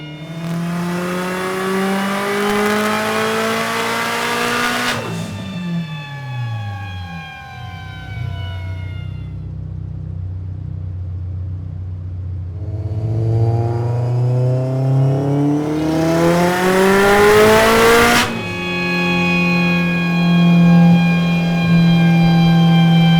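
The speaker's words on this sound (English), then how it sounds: "That is me testing the car" A Subaru WRX STI with stage 4 upgrades revs hard on a dyno, climbing in a long rising pull, dropping off, then climbing again in a second sweep, loud and close throughout.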